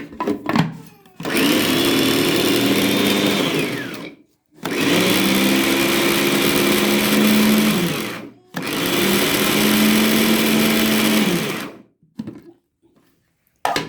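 Garlic minced with salt in an electric chopper, three loud whirring bursts of several seconds each separated by short pauses, the motor pitch dipping as it spins down after each run.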